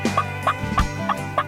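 American wild turkey yelps in Tennessee, five short raspy calls spaced evenly in quick succession, close and clear with no talk.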